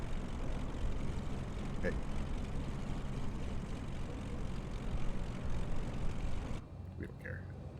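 Beechcraft propeller plane taxiing, a steady engine drone with broadband rumble filling the clip until it drops abruptly near the end; a voice speaks briefly over it.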